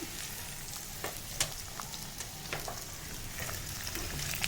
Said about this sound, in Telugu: తర్వాత ఉల్లిపాయలు వేసుకోవాలి,